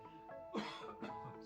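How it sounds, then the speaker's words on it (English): Two close, loud coughs land directly on the microphone about half a second apart, each a sharp burst followed by a rougher throaty tail, over a quiet background with a faint steady tone. "I coughed right into the mic there"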